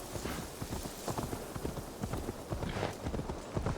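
Horse hooves clip-clop in Assassin's Creed Valhalla, a quick, even rhythm of close, distinct hoofbeats heard alone for several seconds.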